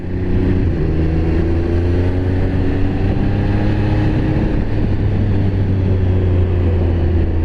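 A Triumph Speed Triple 1200RR motorcycle engine drones loudly and steadily under way, a constant throaty roar with rising tones as the bike rides on, wind noise mixed in and no voices.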